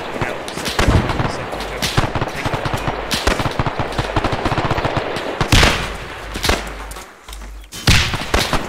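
Rapid bursts of machine-gun fire and heavier gunshots in a Kyoshu Island mission at a wrecked airfield, loud and sustained with sharp repeated cracks and thuds, some voices talking underneath.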